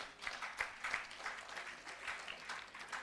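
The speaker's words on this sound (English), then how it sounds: "A bigger round of applause." Faint, distant audience applause in a hall at a Pan African universities debating championship in Kampala, a soft continuous patter of many hands with slight swells, no voices over it.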